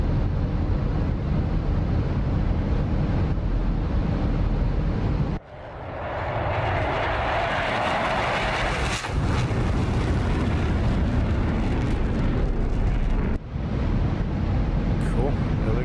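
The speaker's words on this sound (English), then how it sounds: "Full power, staging burner." A MiG-29 jet engine spools up to full power with afterburner in the DCS flight simulator, a loud, broad roar that swells and holds steady, with a brief dip partway through.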